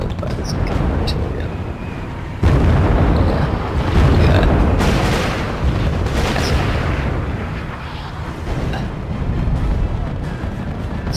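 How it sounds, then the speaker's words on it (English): Incoming artillery fire in the strategy video game RUSE, a dense rumbling barrage of booming blasts that swells and fades over a sustained roar, loud with a voice talking over it. "get annihilated by this incoming artillery"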